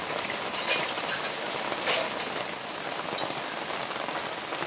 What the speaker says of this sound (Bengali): আমি এর মধ্যে দিয়ে দেবো সামান্য পরিমাণে জল